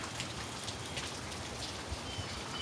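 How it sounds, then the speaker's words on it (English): Rain patters steadily onto a porch in sunshine during the early evening, a dense, even hiss of drops with occasional closer splashes and no talking. "And it's raining with the sun out here"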